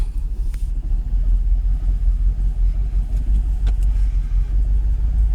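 A rough-running Jaguar XKR (X100) engine rumbles with a deep, steady low drone, occasionally rising slightly as if revving, close by and without speech.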